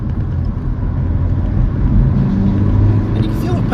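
A Ford Escort Mark 5 LX turbodiesel engine accelerating in third gear toward 3,500 RPM, a loud, low, droning engine and road roar heard from inside the car, growing slightly stronger as it runs.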